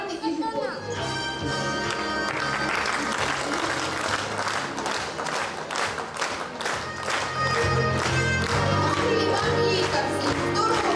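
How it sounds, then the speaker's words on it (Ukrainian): Enthusiastic applause at a school-year concert with a festive korovai ceremony, dense rhythmic clapping from a full hall blended with music playing underneath, some hands falling into a beat. "Шквал оплесків"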